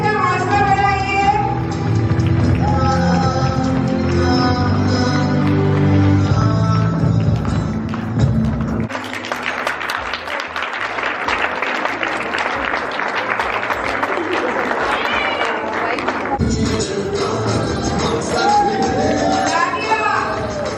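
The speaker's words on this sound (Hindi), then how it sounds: "प्लीज तालियों से इनका हौसला बढ़ाइए" Audience applause at a Women's Day celebration in Vivek Vihar: a dense, sustained burst of crowd clapping fills the middle of the clip, set between louder stretches of music and amplified talk.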